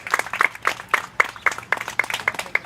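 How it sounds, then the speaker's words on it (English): An audience applauds a group of people brought on stage at a community event, with distinct, fairly close hand claps in an uneven, lively rhythm. "Give another round of applause for these amazing,"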